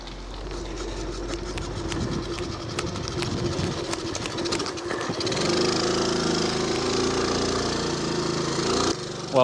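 A Honda PC50 moped running while ridden, its small engine putting out a buzzy, rattling putter that rises in pitch partway through. Road and wind noise persist underneath, and there is no speech.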